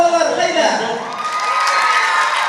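A large concert crowd in Aktau roars with sustained cheering and shouting, dense and loud, with high whoops rising over the din; clapping is not clearly separable.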